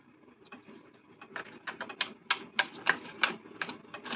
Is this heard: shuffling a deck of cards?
yes